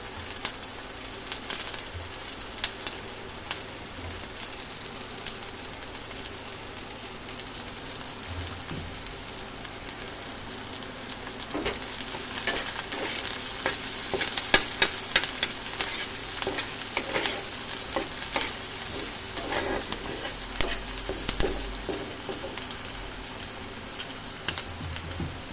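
Onion and green chilli sizzle in hot oil in a pan for an aloo-kumro chorchori, a steady frying hiss broken by frequent clattering stirs of a spatula, close and moderately loud.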